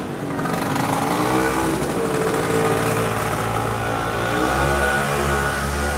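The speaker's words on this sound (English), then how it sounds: "And a very noisy scooter." A noisy motor scooter drones past outdoors on a street, a steady rough engine buzz that stays loud throughout with no speech.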